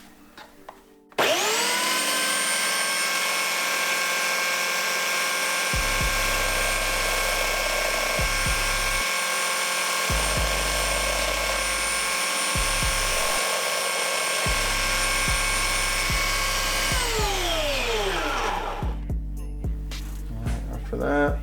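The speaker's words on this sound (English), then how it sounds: "instead we're going to be grinding this surface here" A grinder runs steadily on the pin end of a Focus ST engine connecting rod, a loud sustained whine that starts abruptly, holds for about sixteen seconds under short bursts of grinding contact, then winds down.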